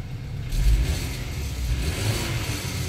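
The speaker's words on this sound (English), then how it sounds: "This car sounds so beautiful." A 2012 BMW 528i engine revs up sharply, then holds a steady, throaty mid-range drone, loud and close with no talking.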